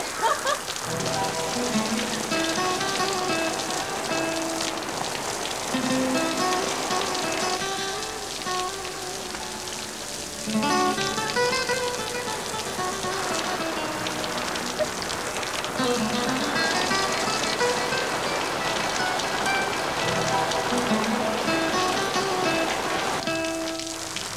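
Steady rain falls and patters on surfaces throughout, a constant hiss with music faintly mixed underneath and no talking.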